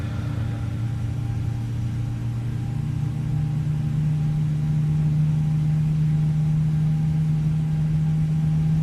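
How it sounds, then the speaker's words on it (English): An Airbus jet engine spools up during start in Flight Simulator 2020: a steady, loud droning hum that slowly climbs in pitch over several seconds, alone with no voices. "You can hear the engine starting."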